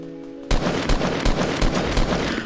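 Video game gunfire starts suddenly after a quiet half second, then keeps up as a loud, dense, rapid automatic burst with regular heavier thumps until the end.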